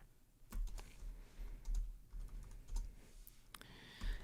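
Code typed on a computer keyboard, close and fairly loud keystrokes in short uneven bursts separated by brief pauses, no speech.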